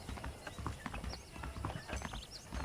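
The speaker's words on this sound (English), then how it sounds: "The horses are saddled up over here." Horse hooves clip-clop in a steady rhythm in a video game, with occasional neighs and whinnies rising over a busy background, close and moderately loud throughout.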